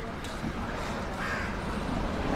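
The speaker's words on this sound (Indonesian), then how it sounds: "ada burung gagak nungguin kalau ada mungkin daging" A crow caws near an outdoor food stall in India, harsh calls rising over a steady background of street murmur and faint talk.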